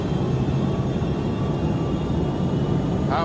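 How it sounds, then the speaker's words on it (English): A Boeing 757 airliner roars through its takeoff run, a loud, steady engine rumble holding evenly throughout with a brief extra burst near the end. "On takeoff, the 757 performed perfectly."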